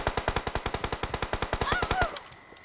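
Rapid automatic gunfire from a video game rattles off in a fast, even burst of about twenty shots, loud and close, before cutting off into quiet.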